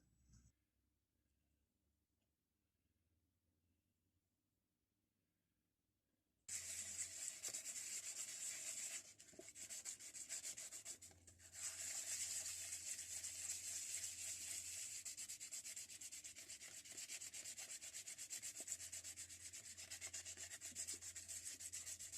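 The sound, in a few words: sanding by hand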